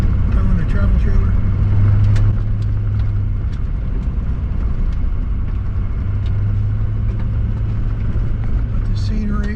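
A vehicle towing a travel trailer rumbles loudly along the rough Alaska Highway, a constant heavy road and engine drone with rattles and bumps throughout, and a voice talking faintly underneath.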